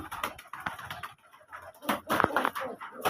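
Pigeons cooing close by in a home coop, a series of soft repeated calls with rising and falling throaty notes, fairly near.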